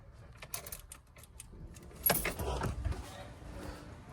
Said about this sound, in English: Let me get the key.